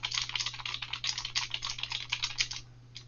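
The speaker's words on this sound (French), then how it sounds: "je tape du texte" Fast, steady typing on a computer keyboard while writing text in Word, a close, continuous patter of key clicks that stops just before the end, with no talking.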